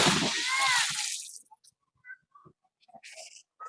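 A person jumps into water at an outdoor swimming spot in Cavite, making a loud broadband splash followed by fading sloshing, then quiet with scattered faint water sounds and distant voices.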